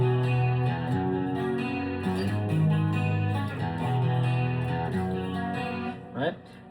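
Clean electric guitar played through a Boss GX100 effects processor, ringing chords and single notes sustaining and changing every second or so, fading briefly near the end.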